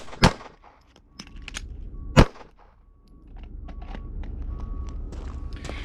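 A handgun on a law enforcement qualification range fires its final rounds: a couple of sharp, loud, isolated cracks spaced a couple of seconds apart over a low outdoor background rumble.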